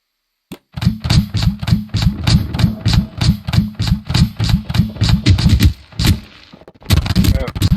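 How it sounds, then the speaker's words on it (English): A V8-style engine built in the sandbox game Scrap Mechanic runs loud and close, a fast rhythmic train of thumping piston beats that stutters briefly before firing up again. "it's V8, I think. It's kind of a realistic look engine"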